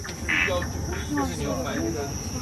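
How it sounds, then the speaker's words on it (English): Four-lined tree frog trilling at night in a zoo's tropical night habitat, a steady insect-like trill over a dense chorus of background calls and hum, with a few faint voices. "a four-line tree frog's trill"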